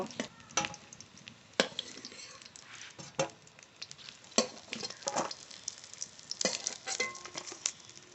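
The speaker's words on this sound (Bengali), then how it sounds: "ভালো করে ভেজে নিয়েছি এবার নামিয়ে নেব" Fish and potatoes frying in a pan, with close scraping stirs and soft sizzling, broken by sharp scrapes at irregular intervals, no voices.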